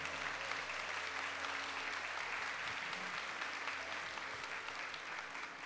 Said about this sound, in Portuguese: Vamos aplaudir a Canção Nova?